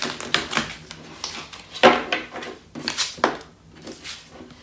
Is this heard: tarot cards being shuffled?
yes